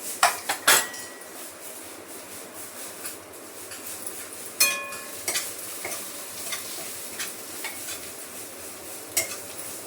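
Turmeric and onion-garlic masala hitting hot oil in a pan, a soft sizzle under scattered sharp clinks and scrapes of a spoon stirring against the metal, alone with no talk.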